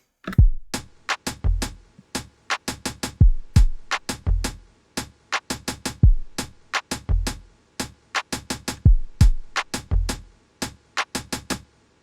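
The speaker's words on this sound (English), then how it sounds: "without any processing, the beat sounds like this." A dry, unprocessed drum beat plays alone, sharp hits and deep kicks repeating in a steady pattern with no effects or voices.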